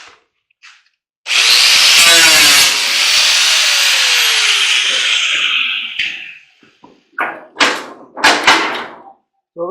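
Power tool screaming through aluminum while scrapping a refrigeration unit, one loud continuous cut of several seconds, followed by scattered clanks and rattles of metal pieces being handled.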